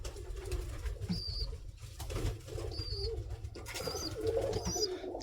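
Young pigeons in a loft give soft, low coos, with a few faint higher calls and a brief wing flutter over a steady background hum.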